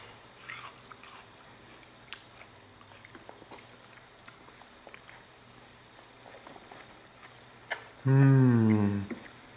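Soft, intermittent biting and chewing of watermelon sounds close by and fairly quiet, followed near the end by a brief loud tonal cry or voice.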